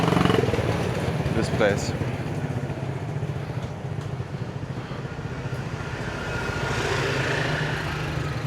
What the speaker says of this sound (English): So I don't know why they're driving so many people here with the motorbike